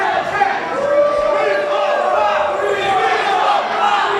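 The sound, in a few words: hometown wrestling crowd cheering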